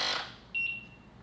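An electronic timer on a tire sealant test setup gives a single short, thin beep at moderate level after a brief rustle, with no voices over it.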